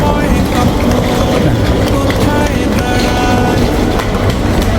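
Loud, continuous low rumble and rattling of a Marmaray train running close by in Istanbul, steady throughout with a faint voice mixed in.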